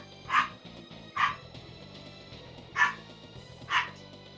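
A dog barks in four separate, evenly spaced woofs over steady background music, close and fairly loud, with no talking.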